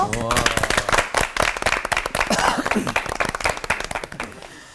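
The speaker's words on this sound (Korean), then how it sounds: "박수로 모셔볼게요." A church audience breaks into dense, crisp applause to welcome a pastor and a professor to a talk on AI. Voices rise over the clapping throughout.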